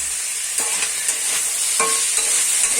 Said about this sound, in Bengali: এইভাবে সবজিটাকে ভাজতে থাকবো।